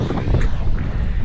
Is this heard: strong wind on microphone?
yes